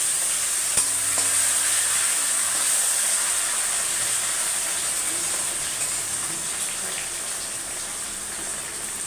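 Steady frying sizzle of cumin in a pan as tomatoes go in, a loud continuous hiss with a brief clatter near the start and no voices.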